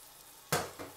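Tomatoes drop into a pan of frying eggplant vegetable ragout, a sudden loud sizzle burst followed by a second, smaller hiss.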